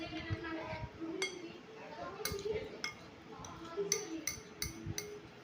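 A spoon clinks against a bowl while a pizza-topping marinade with chili powder and pizza pasta sauce is stirred: scattered sharp metallic taps, some in quick pairs, over a soft room background.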